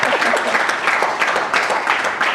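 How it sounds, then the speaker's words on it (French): A small audience claps timidly and unevenly for a couple of seconds, a soft patter of hands filling the room with no voices over it. "Il a applaudi tout timidement."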